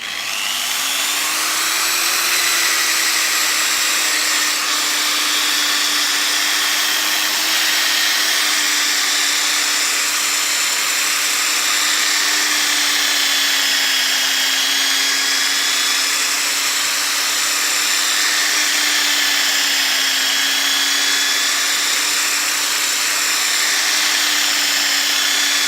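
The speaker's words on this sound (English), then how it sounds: "Whatever you do, don't push down on the angle grinder, just guide it." An angle grinder runs continuously at a steady high whine on the metal of a Hoover Turbopower Junior U1426 vacuum under refurbishment, loud and close throughout with no pauses and no talk.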